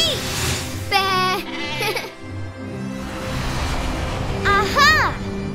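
Cartoon sheep bleating over a grassy field, with a couple of wavering, close bleats among lively character voices and background music.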